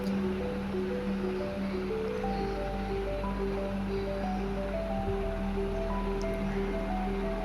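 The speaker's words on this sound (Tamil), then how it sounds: "இப்போ இதை வந்து நம்ம ட்ரையாக அரைச்சிடலாம்" A kitchen mixer dry-grinds peeled almonds with a steady, continuous whirring drone and gritty rush, holding even for several seconds, close and alone.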